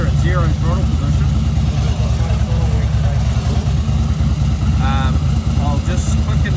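A Harley-Davidson Dyna motorcycle engine idles at about 1150 rpm, a steady, loud, lumpy low rumble; someone talks over it.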